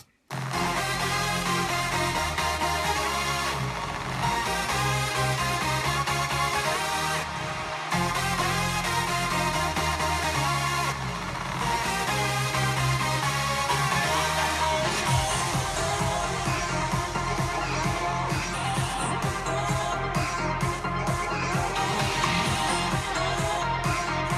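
A dense electronic dance track plays loud and continuous, pumping chords over a thumping beat, with rising noisy sweeps and stuttering hits building toward the end.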